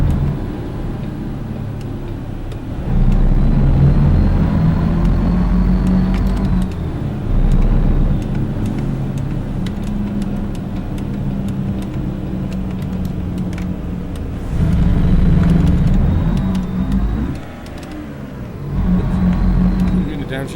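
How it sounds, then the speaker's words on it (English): Simulated truck engine with a clutch fan in American Truck Simulator, driving through hot lower Nevada: a continuous low engine drone that swells and dips with throttle, with a faint fan whine, under ongoing talking. "I definitely hear a simulated clutch fan."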